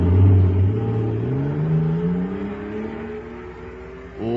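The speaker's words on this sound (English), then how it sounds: "Listen to that fire-controlled jet car go now." A jet car sound effect from a radio drama: a loud engine whine that rises steadily in pitch as it accelerates, with no talk.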